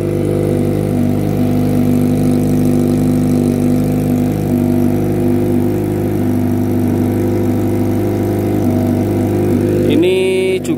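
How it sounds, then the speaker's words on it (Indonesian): A 250cc motorcycle with a Yakuza exhaust idles at low RPM, a steady, loud, throbbing drone that holds evenly throughout, with a brief rise in pitch and roughness right at the end. "Suara RPM rendah, belum kita gas."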